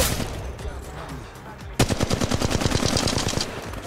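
Rapid automatic gunfire in the mobile shooter Apex Legends Mobile, a quiet stretch giving way to a loud, dense burst of rattling shots that keeps going to the end.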